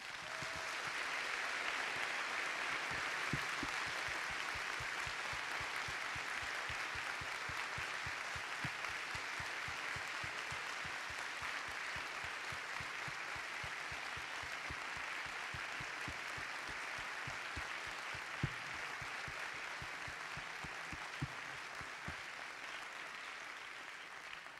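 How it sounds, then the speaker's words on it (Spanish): A ceremony audience at a journalism award event gives sustained applause, steady rhythmic clapping that carries on evenly for about twenty-five seconds with no talking. "quisiera un minuto de aplausos para Guillermo Cano y Pedro"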